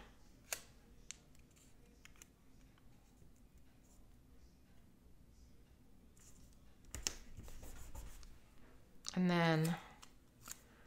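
Scissors snip a sticker in half at a planner desk, a brief crisp cut near the end following quiet paper handling and a short spoken phrase.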